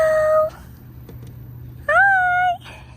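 Cats meow twice, a loud close cry at the start and another longer rising-and-falling meow about two seconds later, over a faint low background hum.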